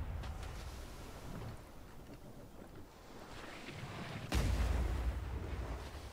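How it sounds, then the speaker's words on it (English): A ship cannon booms once in the Blazing Sails pirate game, a sudden loud blast cutting through a low rumble of wind and sea, followed by a lingering roar as it fades. "just fire the cannon then"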